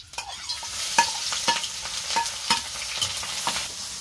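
Cabbage or onion is being fried in a pan for noodles, giving a close, loud sizzle broken by repeated scraping strokes of a spatula at a fairly regular rhythm, with no talking.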